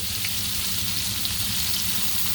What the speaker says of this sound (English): And we want to fry these until it smells delicious.